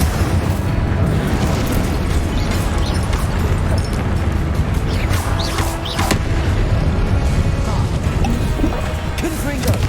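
Incendio fire spell cast in the video game Hogwarts Legacy, a loud, continuous roar of flame and crackling impacts with repeated bursts and crashes over ten seconds of dense combat noise.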